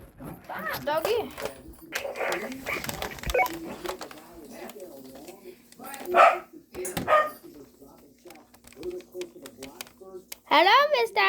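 A dog barks and yips repeatedly nearby, loud sharp bursts scattered between people talking over it, with a whimpering note near the end.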